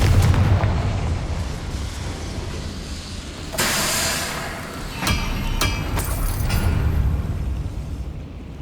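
Booming blasts from the Confringo fire spell in Hogwarts Legacy, several heavy explosive hits with sharp bursts standing out over a constant rumbling game background, no voices.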